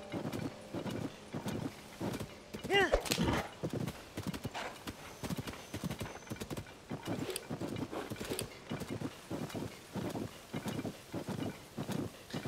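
Horse hooves clip-clop in a steady rhythmic trot in the video game Zelda: Tears of the Kingdom, with a brief whinny early on and soft wind in the background.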